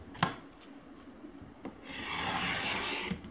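Fabric strip edges of a quilt block are trimmed along a ruler, heard as a few soft, close scraping cuts followed by a longer rasping rub, quiet with no talk.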